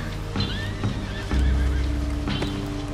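Horse neighing in a cliff-diving video game: two whinnies with rising and falling squeals ring out close, one near the start and one near the end, over a steady low game rumble with soft clip-clop hits.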